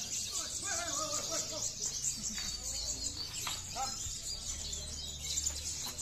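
Lovebirds chirp at an outdoor bird-singing contest, a steady busy chatter of many birds with a constant high hiss of background calls, and faint voices underneath.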